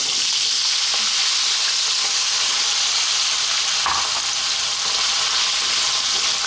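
Small peeled, diced potatoes frying in very hot olive oil, a loud, steady, crackling sizzle filling the whole stretch with a brief clatter of stirring midway; close and continuous, with no talking.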